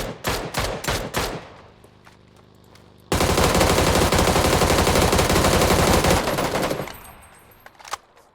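Rapid bursts of gunfire crack out in PUBG, followed by a sustained, loud stretch of automatic fire that cuts off abruptly, with game-like sound effects after.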